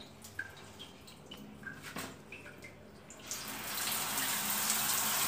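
A newly installed electric shower is switched on: a few faint drips come first, then a steady, broad rush of running water swells in and holds to the end, with no talking.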